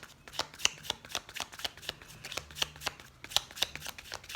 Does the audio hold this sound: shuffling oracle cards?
yes